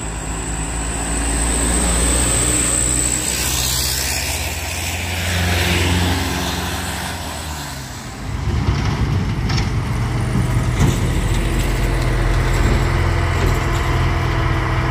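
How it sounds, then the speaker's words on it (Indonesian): A bus passes on a hillside road near an accident scene, a continuous low engine rumble and road roar that grows heavier and closer about halfway through and holds steady without any talking. "Oke, udah ada bus."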